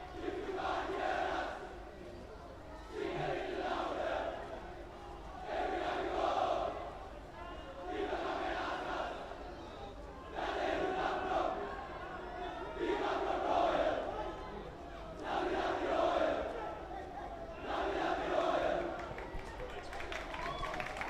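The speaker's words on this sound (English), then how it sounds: "everybody listening to the cheer of the Royal supporters" Royal College supporters cheer and chant in rhythmic surges at a school water polo match against S. Thomas' College, a loud crowd roar rising and falling in repeated waves across the whole stretch.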